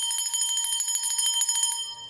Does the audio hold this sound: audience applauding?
no